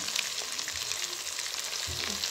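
Masala-coated fish frying in cholesterol-free oil in a pan over low flame, a steady dense sizzle with faint low bumps, no voices.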